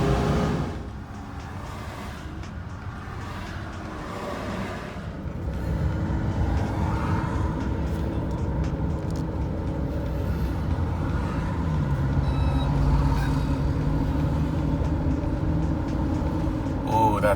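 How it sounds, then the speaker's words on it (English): Heavy trucks rumble past in a continuous low roar of road noise, the sound swelling and staying loud as they move by. "Noisy trucks."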